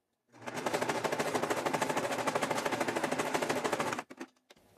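A sewing machine runs a zigzag stitch around a fabric piece in one continuous burst of fast, rapid mechanical clatter lasting about four seconds. It is close and loud, then stops with a few faint clicks.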